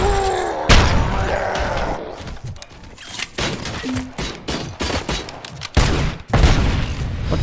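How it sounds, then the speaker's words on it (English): Loud video game combat rumbles with a burst of gunfire, heavy booms and thuds, and an explosion among clattering mechanical impacts, dense and chaotic with sharp, irregular hits and no talk over it. "What the hell was that explosion?"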